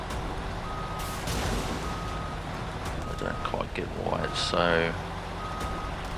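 Recovery truck backing out across ice with repeated reversing beeps at a steady rhythm, a continuous engine rumble beneath, and someone talking over it.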